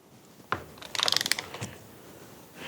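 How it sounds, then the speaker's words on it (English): A ratchet wrench clicks in a rapid burst while a nut is tightened to 80 foot-pounds on a Yamaha 450R engine braced against a bench, with a sharp clank before and a few looser clicks after. "we're going to tighten this nut down to 80 foot-pounds"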